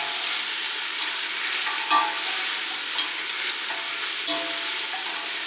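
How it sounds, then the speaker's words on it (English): Frozen celery stirred in hot olive oil for a vegetable soup, giving a steady close sizzle with a few soft scraping strokes of a spoon against the pan. "Give those a stir just to coat them with the olive oil."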